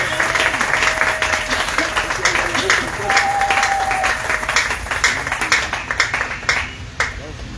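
A church congregation applauds for the Lord Jesus, dense continuous clapping from many hands in a large room, with a preacher's voice and crowd voices over it.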